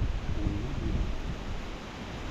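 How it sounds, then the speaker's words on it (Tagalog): Strong gusting wind, with light drizzle, blowing through banana trees at a planting site: a steady broadband roar and rustle that holds continuously throughout, with no voices. "Ang lakas ng hangin ano. May kasamang ambon po."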